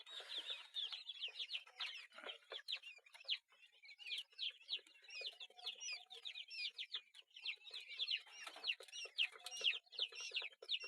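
Dense, continuous high chirping from a crowd of one- to twenty-day-old quail chicks in a brooder on a Chinese duck farm, with many overlapping peeps close by and no talk.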